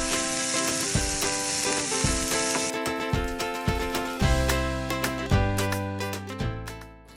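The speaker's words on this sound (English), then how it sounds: "Add in the sweet corn. Stir, stir, stir." Sweetcorn sizzles in a pan while being stirred, a bright hiss in the first few seconds. Upbeat music with steady beats plays loudly over it throughout.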